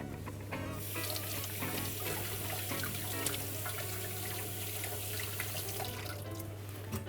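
Tap water runs steadily into a sink while cut salsify is rinsed, a continuous close splashing rush with small trickling variations and no pauses.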